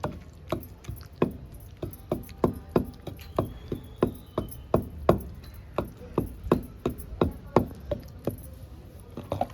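Green chillies for sesame chutney being pounded in a stone mortar, a steady series of sharp, close thuds at an even rhythm, with no talk.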